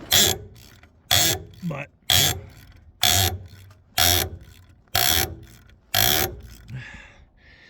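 A ratchet clicks in seven hard, evenly spaced bursts as it works loose a stuck bolt with a worn bottom, each stroke a loud rapid pawl rattle close by, with a brief spoken word.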